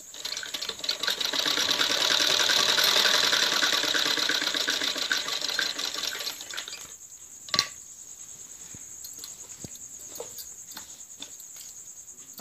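Sewing machine stitching a neck strip onto a kurti, a fast loud rattling run of stitches for several seconds that slows and stops, followed by quieter clicks and handling of the fabric.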